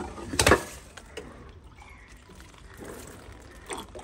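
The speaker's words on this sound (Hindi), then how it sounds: "उसके बाद क्या है इसमें आपको हम पानी डाल देते हैं।" Water is poured from a container onto a dahlia seedling in a small pot, with a brief splash up front and then a soft trickle that fades away, followed by a quieter second splash near the end.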